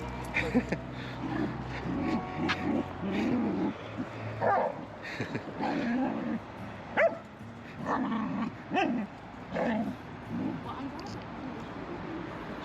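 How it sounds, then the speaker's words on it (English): Dogs at play outdoors, trading bursts of barks, growls and whimpering yips in an uneven rhythm, with people talking intermittently over the scuffle. "We like watching him get beaten up by another dog."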